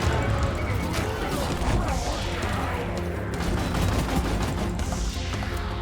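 Scorching Tide overclock fire shotgun firing in the co-op shooter Deep Rock Galactic: rapid, continuous blasts with dense, crackling bursts that barely let up, loud and close over the whole stretch.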